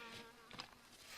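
Flies buzz faintly in short, wavering whines close by, just over a second long, next to a KLR-650 motorcycle during a repair.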